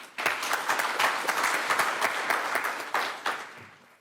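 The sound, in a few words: audience applause at conference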